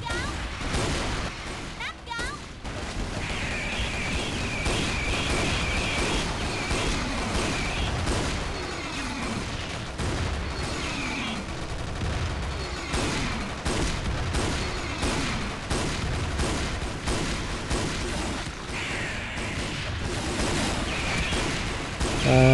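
Gunfire from a new silver crossbow-style shotgun in a mobile shooter game, booming shots repeating at a slow rate amid a dense, loud battle mix with other weapons and explosions throughout.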